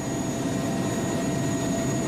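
Helicopter flying over the damaged Chernobyl reactor block drones loudly and steadily from inside the cabin, a continuous engine and rotor roar with no pauses.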